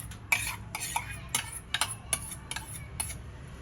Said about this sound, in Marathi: आणि थोडं आपण दही फेटून घेऊया